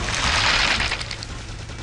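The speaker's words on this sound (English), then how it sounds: "Fire the cannon!" A cannon blasts in the shooter game Quake 2, a loud, dense burst of rapid gunfire-like shots that tails off slightly after the first second.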